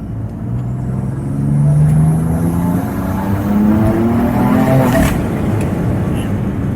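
A BMW F80 M3 fitted with pure turbos and methanol injection accelerates hard, its engine note climbing through two gear pulls with a brief shift gap between them, loud and close from inside the car.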